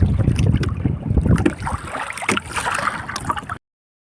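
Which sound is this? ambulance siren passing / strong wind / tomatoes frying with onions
strong wind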